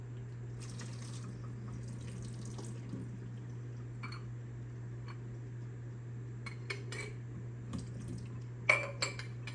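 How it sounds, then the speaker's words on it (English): Water trickles and splashes softly while loose leaf tea of flower petals and green tea is rinsed, with scattered light clinks of cups or utensils and a steady low hum underneath, quiet and close. "Anyway, it's loose leaf tea, so I will rinse the tea first."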